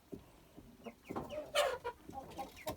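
Leghorn, Minorca, Amrox and Livensky chickens cluck in a barn, giving scattered close clucks and short squawks, one louder call in the middle, with no talk.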